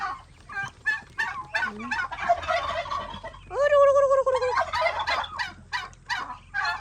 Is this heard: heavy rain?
no